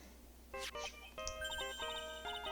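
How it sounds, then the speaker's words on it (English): A cell phone rings in the Phoenix Wright: Ace Attorney – Trials and Tribulations video game, a bright electronic melody of repeated chiming tones rising over quiet room ambience. "Hey, Nick, your cell phone's ringing."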